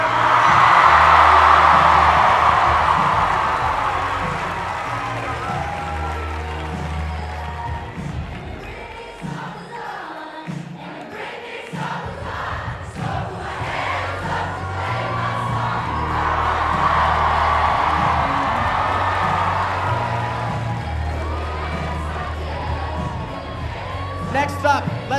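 A school assembly audience cheers and whoops loudly, with children shouting, a burst that dips briefly near the middle and then swells again with continued crowd noise and some voices.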